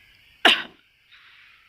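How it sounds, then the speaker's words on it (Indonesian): A single sharp cough from a patient with a chest drain, close and loud, followed by a faint breathy exhale in a quiet room. "Ibu boleh minta tolong batuk sebentar, Bu?"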